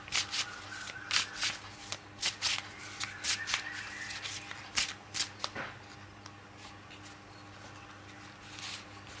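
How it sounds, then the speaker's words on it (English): Tarot cards are shuffled by hand at close range, a series of quick riffles and papery flicks in uneven bursts that thin out toward the end, heard alone against a faint room hum. "I'll get one card from this deck."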